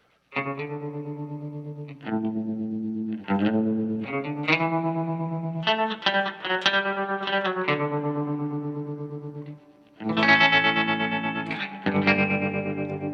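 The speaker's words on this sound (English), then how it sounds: "if we move over to the square wave, what you're going to hear is a lot more cutoff as it flattens up at the peaks and the valleys" Electric guitar through a Walrus Fundamental tremolo pedal set to a square wave, its sustained notes chopped into abrupt on-off pulses, playing a clear, fairly loud phrase with no talk.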